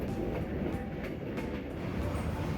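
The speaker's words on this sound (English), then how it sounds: "As the train passes through the cut-throughs and over the bridges" A passenger train runs along the railway near Hai Van Pass in Vietnam, a continuous close rumble of wheels on track with faint rhythmic clatter and no talk.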